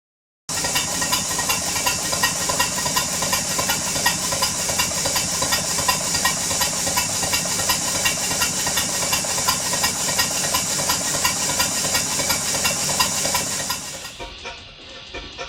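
Twin Stuart 5A steam engine running steadily with a continuous loud hiss of steam and a rapid mechanical beat from the cranks and crankshaft-driven water pumps, dropping away sharply near the end.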